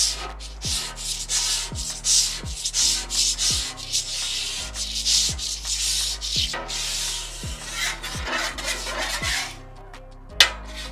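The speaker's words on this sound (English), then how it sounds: "Now let's give this grill a scrape." A metal scraper is dragged across a hot hibachi grill in repeated rhythmic strokes, each pass a loud rasping scrape with a sharp knock at the end, carrying on steadily and alone before a final clank.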